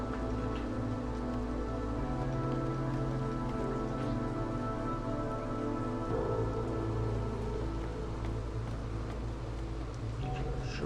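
Drizzle falling in the Against the Storm weather setting, a steady, dense patter of rain that runs unbroken throughout, with a low hum of music or ambience underneath.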